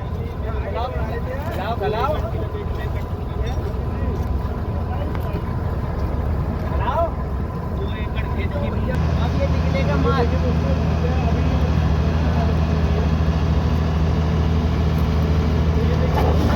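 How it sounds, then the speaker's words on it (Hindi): A harvesting machine threshes moong beans in a field and pours the grain out, making a loud, continuous engine drone and rumble that grows heavier partway through, with someone talking over it throughout. "देखिए, ये देखिए इस तरह से मशीन से बाहर आ रही है मूंग।"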